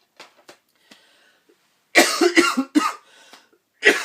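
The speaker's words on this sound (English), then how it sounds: "All of a sudden, I'm like coughing like crazy" Several harsh, close coughs in a quick cluster, preceded by a few softer throat sounds, with quiet gaps between.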